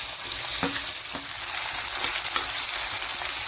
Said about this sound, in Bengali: এবার আমি পেঁয়াজগুলোকে এর মধ্যে দিয়ে দিলাম।